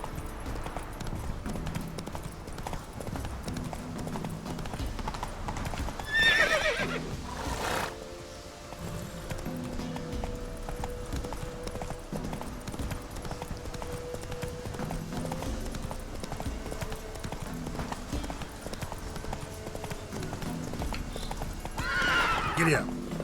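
Roach, the horse in The Witcher 3, clip-clops along a treacherous path with rhythmic hooves and lets out a couple of whinnies, with a voice talking intermittently over the game sound.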